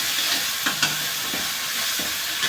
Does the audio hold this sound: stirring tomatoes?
yes